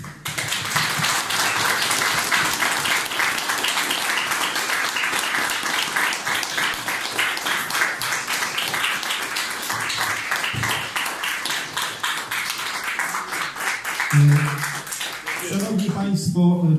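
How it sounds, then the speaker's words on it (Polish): A lecture audience gives Tadeusz Płużański sustained, dense applause, loud and unbroken for many seconds, with a few voices and louder claps near the end. "te brawa dla Pana Tadeusza są zasłużone"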